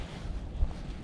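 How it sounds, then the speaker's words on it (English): A breeze buffets the microphone while fishing for pike with jigs outdoors, producing a steady low rumble and rustle with one brief stronger gust. There is no speech. "there's quite a bit of a breeze"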